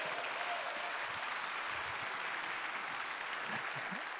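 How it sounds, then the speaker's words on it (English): A church congregation claps in warm, sustained applause for a visiting baseball team from Kentucky, a dense even patter of many hands lasting several seconds. "How about a round of applause for that?"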